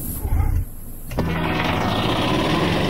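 A submarine engine starts in the VR game I Expect You to Die: after some mechanical clatter, a sharp click leads into a steady, loud, high-pitched mechanical whir and rumble that keeps running.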